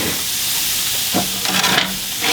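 Coca-Cola splashes onto sticky pork ribs cooking in a pan, a steady sizzle and hiss joined by a few short bursts of splashing liquid.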